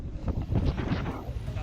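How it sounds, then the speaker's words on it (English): Wind buffets the microphone with a rough, rumbling roar at Southwest Arm, with a faint voice underneath. "Pretty windy up here today in Southwest Arm."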